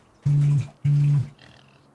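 Two loud, low pig grunts in Farming Simulator 25, each about a third of a second long, with a faint tone trailing off afterward.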